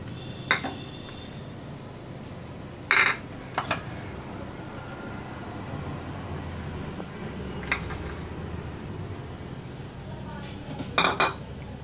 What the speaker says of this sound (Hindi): मैं इसमें सारी चीजें मिला दूंगी।